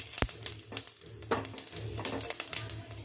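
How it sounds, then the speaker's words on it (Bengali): A tempering of bay leaf and white cumin fries in oil in a kadai, giving a close crackling sizzle with sharp pops and spatters over a few seconds. "ফোড়নটা কয়েক সেকেন্ড ভেজে নিচ্ছি।"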